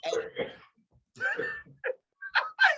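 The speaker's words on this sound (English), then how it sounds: "You're coughing?" A few short, harsh coughing bursts in quick succession, close and fairly loud, separated by brief pauses.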